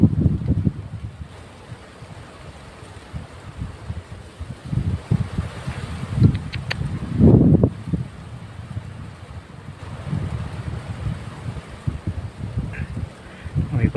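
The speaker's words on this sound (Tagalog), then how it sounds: "grabe lakas yung hangin" Gusty wind buffets the microphone in low, uneven rumbles, rising and falling in strong bursts over several seconds, with no voices heard.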